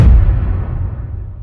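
A cinematic whoosh-hit sound effect, shaped with two subtle EQ moves, lands as a loud, deep boom right at the start and rumbles away over a second and a half, alone.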